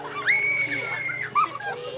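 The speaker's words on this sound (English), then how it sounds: "I hear screams." Distant screams from amusement park rides at the North Pole Santa's Workshop park in Colorado Springs, a high sustained shriek followed by a shorter yelp, carried over steady background hum.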